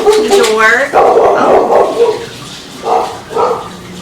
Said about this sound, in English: those were the dogs